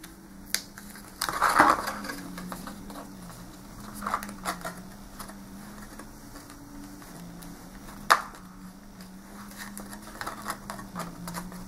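Paper valentine band having thick slits punched out by hand, heard as a few separate sharp crunching snaps spread through a quiet take, with no talking.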